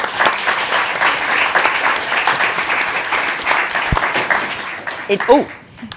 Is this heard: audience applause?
yes